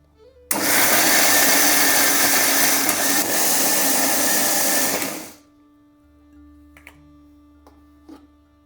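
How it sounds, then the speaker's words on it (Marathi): A mixer grinder blends dry spice masala, without water, for a Konkani-style crab curry. A loud, steady whir runs for about five seconds, then cuts off, leaving faint clicks and light handling noise. "आता हे आपण मिक्सरला बारीक करून घ्यायचं आहे"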